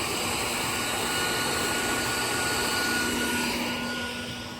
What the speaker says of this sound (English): I'm going to vacuum up all these bees out here.